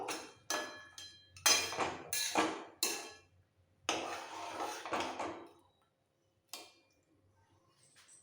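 Bata fish curry stirred in a pan with the gas off, a series of sharp, close metal scrapes and clinks of a spoon against the pan, coming in bursts separated by pauses.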